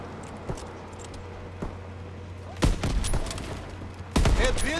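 Call of Duty World War II gunfire: a couple of faint isolated shots, then two loud close bursts of rapid fusillade with scattered game noise, over a steady low hum.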